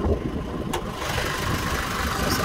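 A 2019 Holden Trailblazer LTZ with its 2.8 engine idles steadily with the hood open, a constant close rumble with a faint click near the start and no talking.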